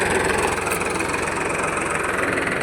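A tractor ploughs a field on an overcast midday, its engine giving a steady, close, rumbling drone with a slight regular throb and no talk over it.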